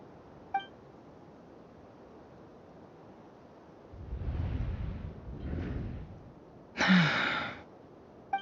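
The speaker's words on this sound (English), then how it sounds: "I heard Yehuda gasp" Character in the Genshin Impact story quest gasping: a breathy intake of air with a sighing exhale, followed by a sharper, louder gasp, over a quiet background with a few soft beeps.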